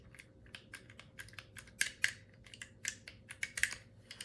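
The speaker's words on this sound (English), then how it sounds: "when you pull it out, you kind of hear this like clack clack that kind of feels like it shouldn't be there" A 1955-56 Packard headlight switch gives a run of sharp, quiet mechanical clacks as it is pulled out. The close clicks come in an irregular rapid series with no voices.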